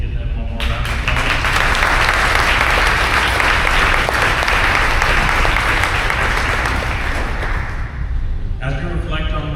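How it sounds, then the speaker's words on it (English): Sustained applause fills a hall at a YMCA support luncheon, a loud, dense wash of many hands clapping steadily that cuts off near the end, leaving a few scattered claps and a voice. "So if we can you please give them one more round of applause?"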